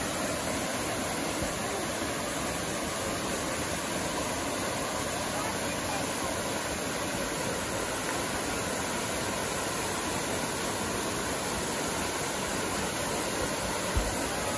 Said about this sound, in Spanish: Miren cómo fluye el agua de ahí